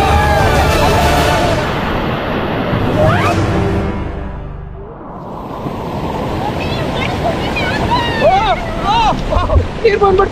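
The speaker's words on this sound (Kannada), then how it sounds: "ಕಾಡಲ್ಲಿ ನದಿ ಹರಿತಾ ಇದೆ" Rafting boat moving down a flowing river through forest, with rushing water and wind buffeting the microphone, a surge that dips midway then builds again while people talk and shout over it.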